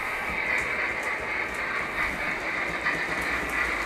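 A model train runs around a mountain railway layout, giving a continuous whirring and hissing rumble with faint rhythmic clicking, steady and moderately loud with no talk.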